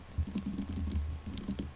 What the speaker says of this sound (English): inside the round braces I'm going to type module not found